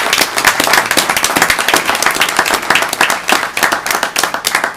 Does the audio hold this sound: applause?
yes